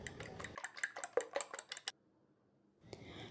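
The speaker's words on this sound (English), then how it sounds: "Beat the eggs really well till they become nice," Fork clinking and scraping rapidly against a bowl while beating eggs, a quick irregular run of close metallic taps for about two seconds, then near silence before faint room noise returns.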